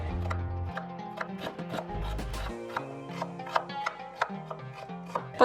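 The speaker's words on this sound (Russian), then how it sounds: "И также мелко режу луковицу" A knife finely chops an onion on a board in a series of sharp, close taps, starting sparse and then quickening into a steady rhythm.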